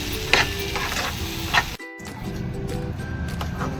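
Sweet corn paste sautés in a hot pan for upma, a dense close sizzle with scraping stirs and a brief drop in sound midway before the frying hiss resumes.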